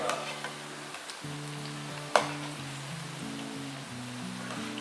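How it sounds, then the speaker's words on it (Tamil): Onion egg pakoda deep-frying in hot oil makes a continuous, even hiss and crackle under steady background music, with one brief sharp clack midway. "இப்போ நல்லா மொறு மொறுன்னு ஆற அளவுக்கு நம்ம வறுத்துக்கணும்"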